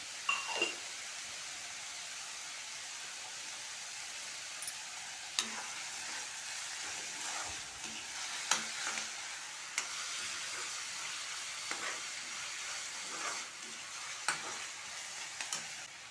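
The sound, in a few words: sautéing in a frying pan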